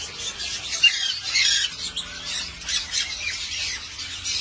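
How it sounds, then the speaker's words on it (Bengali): Parrots and lovebirds, including albino lovebirds, squawk and screech nonstop inside a bird shop at a Bangkok bird market, a dense, shrill chorus close by. "প্রচুর পাখি দেখতে পাচ্ছি এখানে এই দোকানে"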